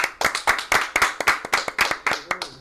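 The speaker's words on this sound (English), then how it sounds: "Clap it up." Hands clap together at a podcast season finale, about a dozen sharp, close claps in a quick, slightly uneven rhythm.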